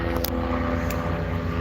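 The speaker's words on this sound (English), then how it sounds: "So we got a lot of them training helicopters flying over all the time." Low, steady rotor and engine drone of a military training helicopter overhead near Whiting Field, continuous throughout with brief hissy bursts.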